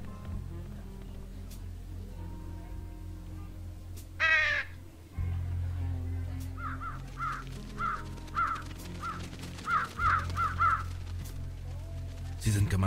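Crows caw in the adventure game Trüberbrook: one loud nearby caw early, then a run of shorter repeated caws over steady background ambience, with a voice talking at times.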